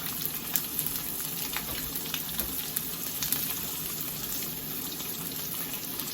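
Bologna slices frying in a pan while being smoked, giving a steady, close sizzle with small crackles and pops throughout and no talking.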